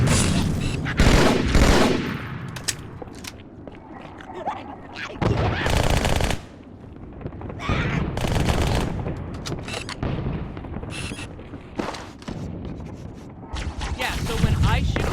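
Gunfire in Halo 2 campaign combat: repeated loud bursts and rattling automatic volleys mixed with explosions and busy game noise, with talking heard in places.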